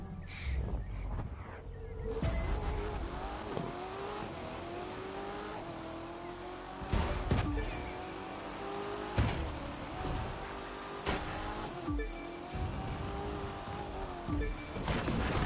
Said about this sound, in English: I got a Charger and a Viper here, chasing them down in my Corvette